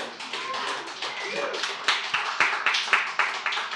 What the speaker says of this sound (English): You could clap for that.